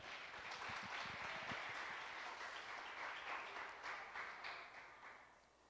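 A church congregation at a Rocha Eterna service applauds together, a dense burst of clapping that stays steady for several seconds before thinning and fading at the end.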